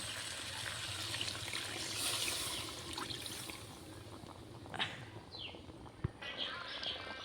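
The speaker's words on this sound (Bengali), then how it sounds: "এখন দিয়ে দিচ্ছি জল।" Water poured into a pan of braised chicken, a steady rushing trickle that runs for several seconds at moderate volume, with a couple of sharp clinks near the end.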